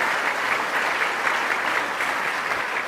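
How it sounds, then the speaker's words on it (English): An audience at a governor's event applauds the Buffalo Philharmonic's music director with dense, even clapping that holds steady throughout and has no talking. "Let's give a round of applause to Joanne Falletta, the music director of the Buffalo Philharmonic."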